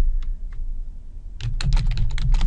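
Typing on a computer keyboard: a couple of isolated key clicks, then a quick flurry of keystrokes close by, with no voice.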